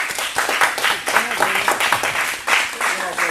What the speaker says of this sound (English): I really think it deserves a round of applause